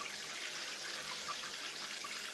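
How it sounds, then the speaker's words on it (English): A shower runs steadily, a continuous hiss of spraying water at moderate level with no voices. "Yeah, I'm technically in the shower."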